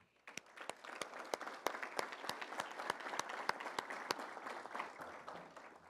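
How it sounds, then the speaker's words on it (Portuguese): An audience at a formal award ceremony claps in sustained applause, fairly distant and moderate in volume, with a few sharp individual claps standing out over the crowd. "Palmas também ao pastor Marcos Antônio Morales."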